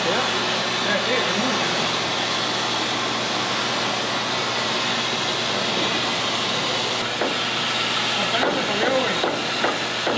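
A cutting torch slices through metal while a small-block Ford is fitted into a 1936 Ford Cabriolet, producing a loud, steady roaring hiss under the whole clip with a few brief crackles near the end.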